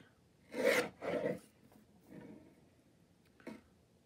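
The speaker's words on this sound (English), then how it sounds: "I'm going to trim these down" Cut-out pieces being trimmed, giving two quick rasping strokes close by, then a softer scrape and a brief final rub, with quiet gaps between.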